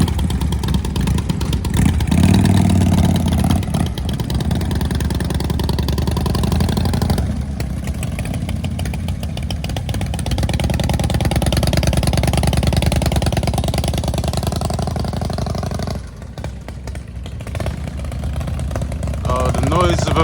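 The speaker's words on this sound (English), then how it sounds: "That's 3 Harleys rumbling away." Three Harley-Davidson V-twin motorcycles at a classic car and bike breakfast meet outside a pub idle together in a steady, deep, continuous rumble. The engines sound fairly close and loud, with background crowd noise throughout.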